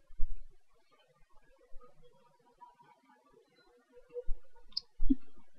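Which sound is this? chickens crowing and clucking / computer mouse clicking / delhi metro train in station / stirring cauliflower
computer mouse clicking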